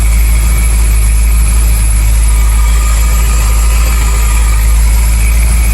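A Ford Mustang Foxbody project car's engine idles steadily up close, a loud, constant low rumble with an even droning hum and no revving throughout.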